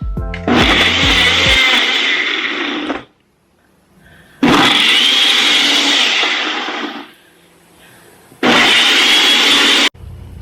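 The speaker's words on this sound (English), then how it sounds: "we're gonna go ahead and mix her up with our little ninja over here" Ninja blender whirring as it mixes a smoothie, three loud bursts of roaring motor noise separated by brief pauses, close up and with no talk.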